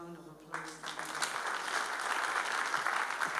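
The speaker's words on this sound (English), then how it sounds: "I'd like us to give Pastor Auguste a round of applause." A church congregation breaks into applause after a short spoken introduction at a Sunday service, the clapping swelling quickly and holding as a steady, moderately distant roar.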